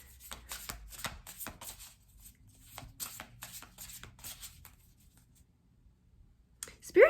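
Tarot cards shuffled by hand, a run of quick papery riffles and slaps close by, then a pause and a few soft card sounds as cards are drawn, with a brief louder knock at the end.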